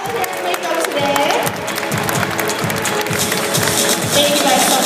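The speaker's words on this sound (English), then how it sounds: "Let's give them a big round of applause." A crowd applauds Aveda Institute students at a fashion show in a rotunda, mixed clapping and crowd noise with voices talking over it, fairly loud and continuous, rising slightly toward the end.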